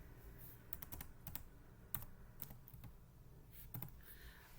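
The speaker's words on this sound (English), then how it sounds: "I'm gonna type the word loved in small caps" Quick, light keystrokes on a computer keyboard, a close run of soft clicks with uneven rhythm and a few louder taps, typing text into embroidery design software.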